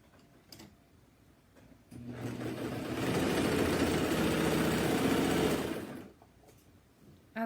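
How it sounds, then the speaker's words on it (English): A serger runs in one sustained, evenly whirring burst of about four seconds as it sews the end of a camisole neckband together, preceded and followed by quiet fabric handling. "once I serge the end of that together"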